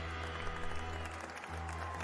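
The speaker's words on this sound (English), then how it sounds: "Please join me in a round of applause to welcome our contestants today." Short burst of applause and clapping from a crowd in the video game Pocket Love, moderately quiet, with a steady electronic hum underneath.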